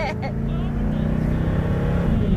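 A Mercedes-Benz W126 300SEL on a test drive, its engine droning steadily from inside the cabin as the car is driven fast, with people talking briefly over it.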